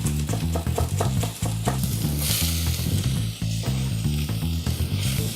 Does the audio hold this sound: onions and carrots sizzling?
yes